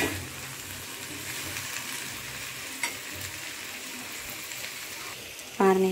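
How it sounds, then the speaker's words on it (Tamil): Chili powder stirred into hot oil for a quick mango pachadi, giving a steady, close sizzle and frying hiss throughout with scraping stir sounds, a sharper clatter near the end. "நான் அப்படியே எண்ணெயிலே கலந்து விட்டுடலாம்."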